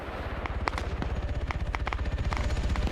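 A helicopter in a military video game, its low rotor chop thumping steadily and loudly, mixed with scattered sharp gunshots, no talk over it.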